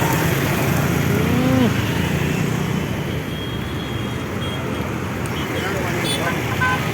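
Steady city traffic roar at LB Nagar, Hyderabad, with a car passing through the busy road, a continuous loud wash of engine noise under people talking close by.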